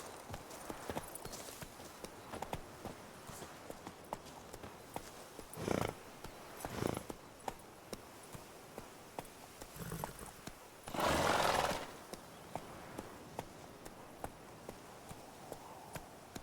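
Horse hooves in The Witcher 3 video game clip-clop at a steady walking pace throughout, with a few loud bursts of horse snorting and neighing breaking in.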